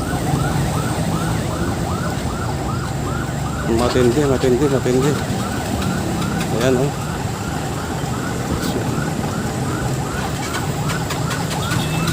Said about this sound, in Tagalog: kanya-kanyang ugong na ng mga ambulansya guys